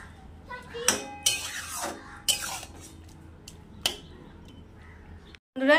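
Boiled matar dal is poured into a pot of pumpkin greens and stirred, with several sharp metallic clanks of a spoon against the pot separated by quieter scraping, plus a final loud clatter at the end.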